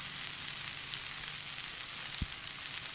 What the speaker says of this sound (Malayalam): ഇനി ഇതൊന്ന് നന്നായി നമുക്ക് ഇളക്കി കൊടുക്കാം